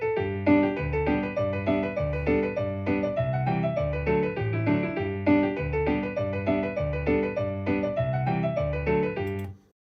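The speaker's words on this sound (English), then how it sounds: "And this continuous boom chick pattern is not what I want." Default abcjs MIDI backup accompaniment in 4/4, with an alternating boom-chick bass note and chord pattern repeating steadily under a simple synthesized melody, continuous and alone for about ten seconds before stopping abruptly.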